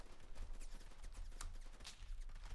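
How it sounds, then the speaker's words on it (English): Distant, faint bursts of gunfire from the online shooter Roblox Phantom Forces, scattered crackling shots and brief volleys over a low steady rumble. "You guys gotta hear all those gunshots all over the place."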